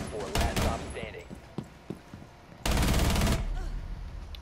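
Gunfire in a shooter video game: short sharp shots and a loud sustained burst of automatic fire, mixed with brief game sounds and a little talk.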